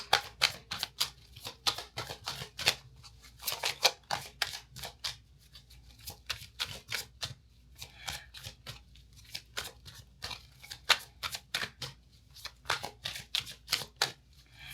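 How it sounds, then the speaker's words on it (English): Tarot cards shuffled steadily for a long stretch, a dense run of crisp riffling slaps and flutters, close and fairly loud with brief pauses between bursts. "I'm just gonna see if it ends up coming through as I shuffle this deck."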